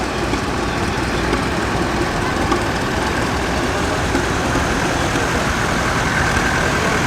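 Vintage tractors driving in circles at an outdoor vintage show in Oswestry give a loud, steady engine rumble and drone with no break, and no voices come through.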